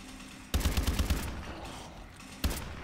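Light machine gun fire in the Exo Zombies game: a loud close burst of rapid rounds, then a sustained rattling tail, with one more sharp shot near the end.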